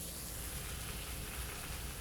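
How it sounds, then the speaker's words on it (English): Chicken cooking on a Traeger griddle, finishing in sauce for birria-style tacos, gives a steady, even sizzling hiss that runs continuously at moderate volume with no talking over it. "Nothing like the sound of sizzling chicken"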